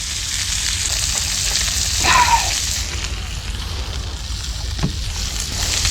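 Mackerel fillet frying skin side down in oil, cooked at sea from a kayak, giving a steady broad sizzle throughout with a brief clatter partway through and faint outdoor background.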